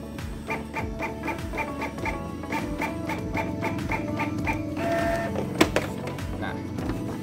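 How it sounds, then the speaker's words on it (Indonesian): A Canon iP2770 inkjet printer feeds paper, with a steady mechanical whir and rapid repeating clicks and ticks from the feed rollers, close up, plus a couple of brief louder clacks near the end. "printer akan otomatis mencoba untuk mencetak kertas."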